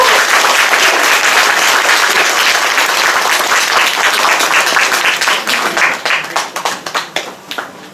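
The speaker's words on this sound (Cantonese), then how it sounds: "大家俾啲熱烈掌聲。" Warm applause from an audience at a Cantonese community hall ceremony, steady dense clapping for several seconds that thins into scattered individual claps near the end, with no talking.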